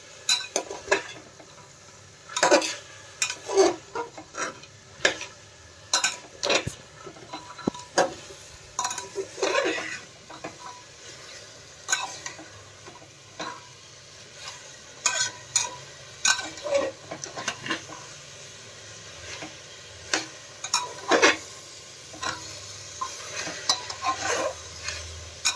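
A spoon stirs chicken stew seasoned with black pepper powder in a pot. Repeated scraping clinks come in irregular bursts over a gentle sizzle, close and clear.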